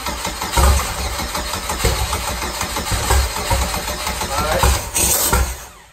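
A turbocharged Chevrolet Cavalier engine starting for the first time, a loud, rough, close-up running roar with uneven pulsing and surges, filling the whole stretch without a break.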